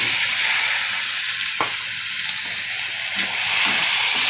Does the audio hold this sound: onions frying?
yes